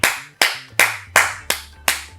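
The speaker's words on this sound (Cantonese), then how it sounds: "拍住手行，拍7下、" Six sharp hand claps ring out at a steady, even pace, close and crisp, made while walking down a back staircase; no one speaks.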